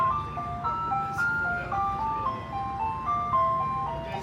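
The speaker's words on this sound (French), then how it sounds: "Il y a un camion de ice cream." Ice cream truck on a road in Canada playing its looping electronic jingle, a clear repeating melody over a low motor hum at moderate distance.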